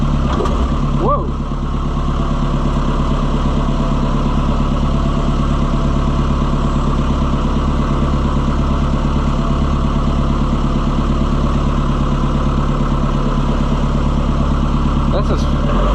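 An Oliver Super 77 tractor engine idles steadily and loudly with a throbbing, even rumble that runs throughout, with a faint voice now and then over it.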